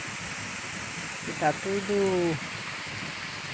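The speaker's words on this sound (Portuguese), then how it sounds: "e a chuva continua. Sempre chovendo, uma bênção de Deus." Heavy rain falls steadily over a farm, a constant broadband hiss throughout, while a voice speaks briefly partway through.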